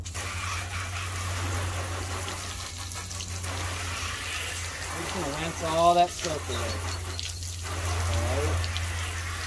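A hose on a shower setting rinses soap off a car in a steady wash of spraying water, loudest near the end, while someone talks over it.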